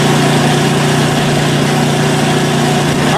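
Close, loud and steady running of a PowerSmart 24-inch snowblower engine, a continuous droning hum with no talking.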